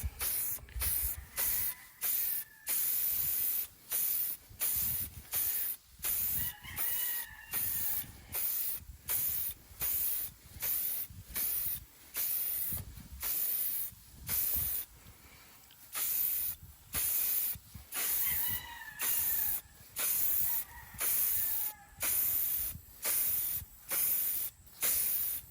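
SC1 protectant is sprayed onto an ATV winch wire in a long series of short, close hissing bursts of aerosol with brief pauses between them, repeated steadily throughout.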